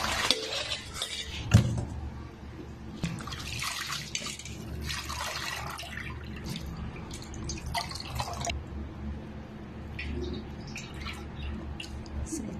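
Water drains in irregular drips and trickles from blanched fern (pako) leaves after salted water, faint and close, with small splashes and clinks scattered across the stretch.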